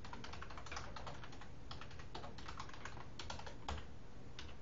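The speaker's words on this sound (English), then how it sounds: "Sometimes I type something, like for example here." Someone types on a computer keyboard while editing in the vi editor, a quick and steady clatter of keystrokes heard close up and at low volume, with no voices.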